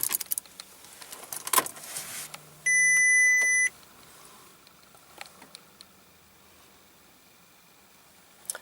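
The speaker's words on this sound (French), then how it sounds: "On va mettre le contact." Ignition is switched on in a 2008 Audi A3 2.0 TDI: keys jangle, a short electronic tone sounds, then a steady chime lasts about a second, followed by faint ticks and clicks in a quiet cabin.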